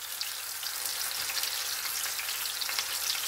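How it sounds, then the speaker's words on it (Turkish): Zucchini frying in a shallow layer of oil gives a steady, close, bright sizzle with crackling pops throughout, with no talking. "Kabak kızar. Kızartma iyi oluyor"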